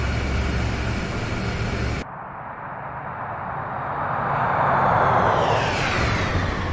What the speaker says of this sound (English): let me get a flyby